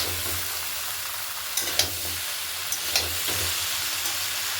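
Spices fry for a Bengali fish-head mixed vegetable chorchori with a continuous soft sizzle and hiss, punctuated by a few light clinks and scrapes of stirring.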